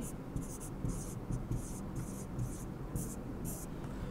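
A pen scratches on paper in quick repeated strokes while working through an accounting calculation. The strokes come in short bursts close by over a low background murmur.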